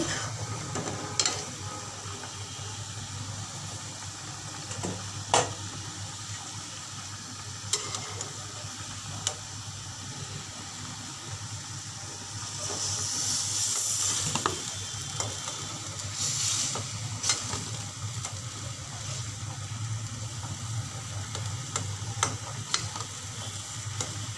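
Hilsa fish cooked with eggplant fries in a pan with a steady, moderate sizzle, broken by occasional clicks and scrapes of stirring throughout.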